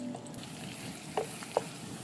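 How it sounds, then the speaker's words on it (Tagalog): Garlic and onion sauté in a hot pan, a steady soft sizzle with two brief stirring scrapes near the end, close and without talk. "igisahin lang natin yung bawang at sibuyas"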